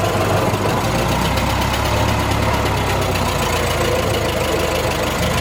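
A 1915 Ford Model T engine runs steadily close by, a continuous low mechanical chug with a knocking undertone, holding the same even level throughout with no voices.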